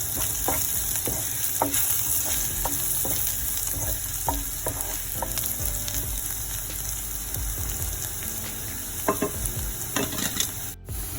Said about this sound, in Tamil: இப்போ கொஞ்சம் உப்பு சேர்த்து வெங்காயத்தை நல்லா பொரிய விடுவோம்